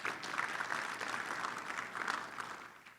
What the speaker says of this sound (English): we could clap for Ian, he's just great.